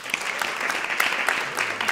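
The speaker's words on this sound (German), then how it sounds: "Applaus bei 1, 2, 1, jetzt!" Applause breaks out in a comedy panel show studio as the audience votes for a contestant, a brief spell of moderately loud clapping from a crowd.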